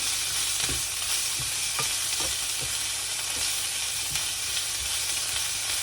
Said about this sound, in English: So I'm going to add some salt to it. Again, saute well.